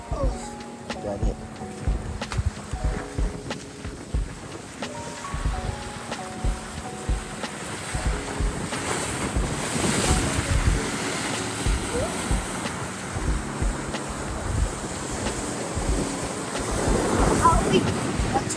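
Strong wind and sea waves on a shore, a continuous roar of gusts buffeting the microphone and surf building louder toward the end, with people talking over it at first.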